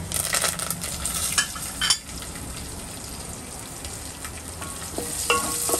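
Garlic and curry leaves sizzle and crackle steadily in hot oil in a pan, with a few louder pops and stirring clatters near the start and end, no talking.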